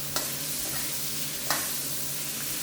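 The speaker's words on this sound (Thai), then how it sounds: "ผัดรอจนกว่าหอมหัวใหญ่จะสุกอีกสักครู่นึงครับ ตรงนี้ใช้ไฟแรงนิดนึงครับ" Sliced onion and chili sizzle steadily while stir-frying in a hot pan over high heat, with two sharp scrapes of a utensil stirring against the pan.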